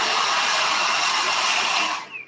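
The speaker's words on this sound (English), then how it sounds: "I'm going to use the hairdryer for a second" A hairdryer blows steadily at close range with a loud, even airy whoosh, then winds down and cuts off near the end.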